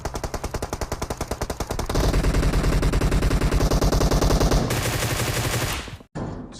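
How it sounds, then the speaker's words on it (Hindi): Rapid automatic gunfire from a PUBG match, loud sustained bursts of machine-gun fire that shift in tone partway through, then cut off briefly before resuming, with no voices. "लेकिन भाई सामने फायरिंग चल रही थी"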